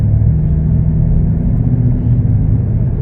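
A 2021 Chevrolet Blazer LT drives and accelerates on a test drive, a steady close interior engine and road rumble with low drone continuous throughout, no voices.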